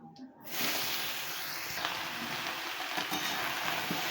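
Ingredients frying in a pan for a bottle gourd and milk curry: a steady, close, continuous sizzle with soft scraping as they are stirred, no talk.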